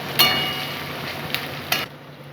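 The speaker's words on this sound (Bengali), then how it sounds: "এখন আমি টমেটোটা দিয়ে দিলাম। টমেটোটা দিয়ে একটুখানি ভাজা ভাজা হোক।" Chopped tomato frying in a pan with ginger garlic paste for a thin goat meat curry, a steady close hiss of sizzling marked by three brief scraping stirs, no voices.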